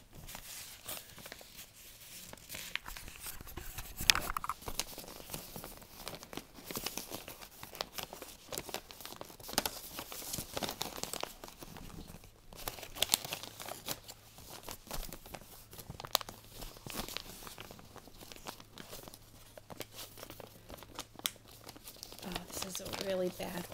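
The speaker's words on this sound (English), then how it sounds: "you're going to fold back your triangles" Repeated crinkling and rustling of paper being folded into a cootie catcher, close and fairly quiet, continuing in bursts with handling noises throughout.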